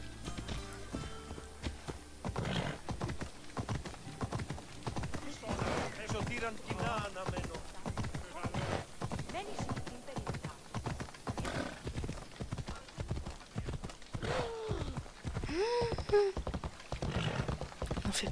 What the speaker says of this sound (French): Oh, je vais y aller à cheval.